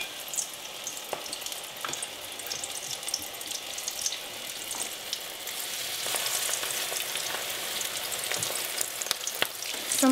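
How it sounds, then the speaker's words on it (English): Frittata mixture sizzles and crackles steadily in hot oil, a dense continuous frying hiss with small pops throughout that swells slightly louder toward the end, with no voices. "just spoon it into that hot oil"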